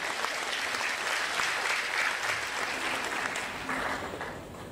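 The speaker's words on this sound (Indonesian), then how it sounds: "tepuk tangan untuk dia" Congregation at an Indonesian church service claps together in a sustained, even burst of applause, a crowded patter of many hands with a few murmured voices beneath it.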